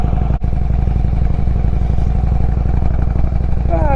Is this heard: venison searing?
no